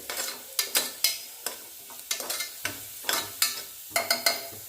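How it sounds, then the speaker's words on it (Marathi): Rice fries in ghee in a pan while a spoon stirs it, giving a steady series of sharp scraping strokes roughly twice a second over a light background sizzle, close up and without voices. "असं थोडंसं फ्राय करून घ्यायचं तुपामध्ये"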